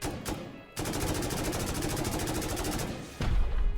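Rapid bursts of automatic gunfire with explosive ammunition in the survival game Rust, a dense, loud run of evenly spaced shots lasting a few seconds, bracketed by brief pauses and a heavier thud at the end.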